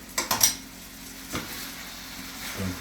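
Shaved steak dropped into a pan of hot olive oil, a few quick clatters and a faint, steady sizzle close by with no talking.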